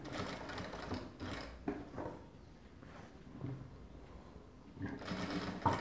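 A sewing machine runs in steady rapid bursts while stitching a shirt collar, the needle chattering loudly and close, pausing briefly between runs.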